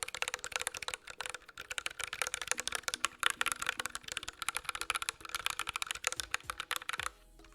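Rapid, steady clacking of keycaps on a newly built mechanical keyboard, close and crisp, continuing for several seconds before stopping abruptly near the end.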